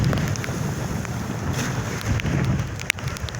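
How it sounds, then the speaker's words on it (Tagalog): Strong wind buffeting the microphone over big waves at sea during Typhoon Karena, a constant loud roar with one sharp knock near the end and no talking. "Pangit ang panahon. Yun. Malaki ng alon."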